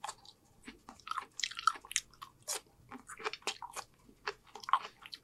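Wet chewing and biting of homemade spaghetti and meatballs eaten with fingers, close, irregular squishy crunches and smacks in soft bursts, with no talk.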